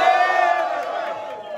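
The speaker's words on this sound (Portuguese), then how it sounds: "Palmas pra gente que tá dando show" The crowd at a freestyle rap battle roars in a loud, sustained cheer with voices shouting together, beginning strong and gradually fading.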